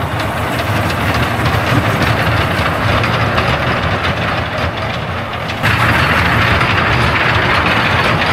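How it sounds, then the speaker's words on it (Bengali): Continuous loud rumbling and rattling of a small toy train ride running at a park, with a steady clatter that shifts slightly partway through. "এখানে প্রথমত দেখা যাচ্ছে আপনার টয় ট্রেন"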